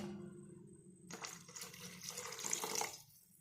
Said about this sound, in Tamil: இதில் கொஞ்சம் தண்ணி ஆட் பண்ண போகிறேன்.